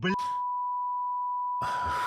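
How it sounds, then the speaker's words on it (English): A steady, pure censor beep tone covers swear words in speech, running for about a second and a half, bracketed by brief bits of a voice before and after. "We beeped all the swear words."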